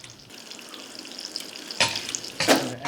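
Seared salmon sizzling in a pan, a soft steady frying hiss broken by two louder sputtering bursts near the end, with no talking.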